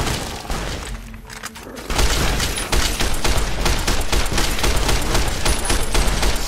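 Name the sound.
service rifle gunfire in Fallout New Vegas video game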